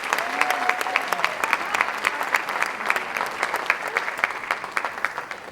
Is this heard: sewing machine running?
no